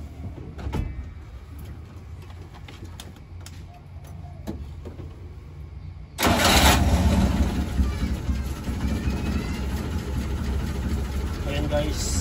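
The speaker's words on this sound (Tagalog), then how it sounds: "papaandarin ko muna ito yung makina bago ko ito ilalagay." An engine that is about to get Top 1 engine oil sits quiet with scattered clicks and handling noises, then abruptly fires up about halfway and runs at a loud, steady idle close by. A person talks briefly.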